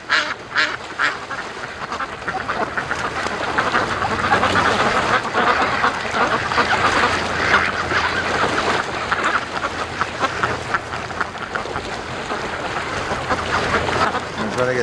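Free-range ducks out on a lake keep up a loud, continuous chorus of quacking, many birds calling at once at close range, with faint outdoor noise underneath.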